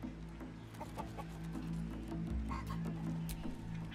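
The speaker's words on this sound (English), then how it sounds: "You just gotta chase the chicken round the course and through the posts." Chickens cluck in a chicken chase in Baldur's Gate 3, with repeated short clucks and squawks scattered across a busy low background hum, moderately close and with no talk.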